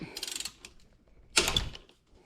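Two short bursts of mechanical ratcheting as a 12mm intercooler bolt is loosened on a 2018-or-later Honda Accord, the second burst sharper after a pause, close and clear with no talk.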